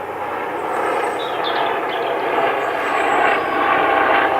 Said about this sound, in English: I'm being buzzed by the police helicopter